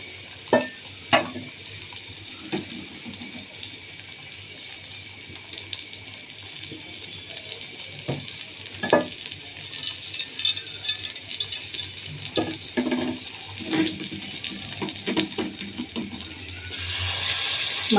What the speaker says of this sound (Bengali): মাংসগুলো আমি এরকম করে ভেজে নেব একটু।